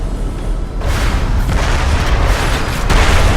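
Loud, continuous booming blasts roll over one another, dense heavy explosions from cannon fire in the video game Crysis with no pause, filling the whole stretch without any speech.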